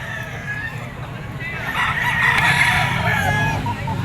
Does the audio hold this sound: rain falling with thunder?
no